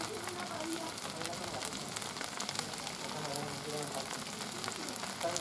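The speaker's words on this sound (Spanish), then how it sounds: "mira el cris del aceite, como va abajo y empieza a socarrar todo" Hot oil crackles and sizzles beneath black rice with squid and prawns in a pan, a dense, continuous frying patter with a voice talking quietly over it.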